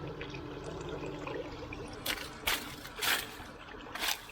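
Artesian well water keeps flowing over the edge of a farm tank, a soft steady trickle with a few brief louder splashes and sloshes near the end, fairly close and without talk.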